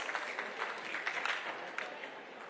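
An audience at an international conference on AI-driven management claps, a faint, steady patter of applause from a modest crowd in a hall, lasting a few seconds without a clear rise or fall.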